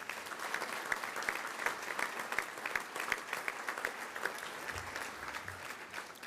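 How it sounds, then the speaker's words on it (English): Sustained applause from an audience at a Band of Brothers anniversary symposium, dense steady clapping filling the room for several seconds with no speech over it. "Round of applause for those guys."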